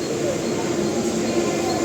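A suburban commuter train pulls out of Goregaon station in Mumbai. A steady low rail rumble and carriage noise fill the short stretch, with faint voices murmuring underneath.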